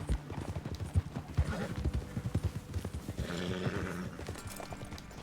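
Horse hooves clip-clopping in the game Red Dead Redemption 2, several horses walking in a steady uneven rhythm at moderate distance, with a brief whinny-like snort and no talking.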